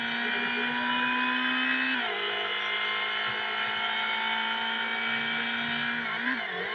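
A car engine in a driving video game, a steady, loud droning whine that dips briefly twice as if shifting gears, with no talking.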